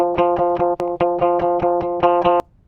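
A short, dry electric guitar fill: quick plucked notes in a steady rhythm, clean and unprocessed, ending abruptly.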